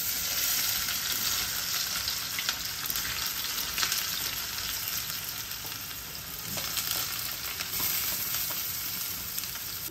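Sliced onions hitting hot oil with fried fennel seeds for a spicy Tamil crab curry, a loud steady sizzle and crackle running throughout with occasional stirring scrapes, no talk.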